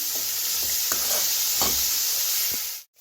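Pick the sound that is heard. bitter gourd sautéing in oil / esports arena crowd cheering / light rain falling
bitter gourd sautéing in oil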